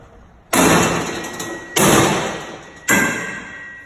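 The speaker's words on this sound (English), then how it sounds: "first thing we're gonna do is we're gonna shock the door" A forcible entry tool strikes a door three times at roughly one-second intervals. Each loud, close, metallic slam rings and decays before the next, with no talk between.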